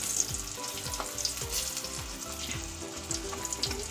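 Potatoes and pointed gourd fry in an oil-filled pan with a busy, continuous sizzle and crackle, close and fairly loud, with a few soft stirring knocks.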